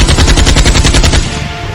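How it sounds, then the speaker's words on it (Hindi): Heavy enemy gunfire in battle, a loud, dense burst of rapid machine-gun shots in steady rhythm that thins and fades toward the end, with no voices. "दुश्मन के हेवी फायर में से यदुनाथ धीरे धीरे आगे बढ़ रहे थे"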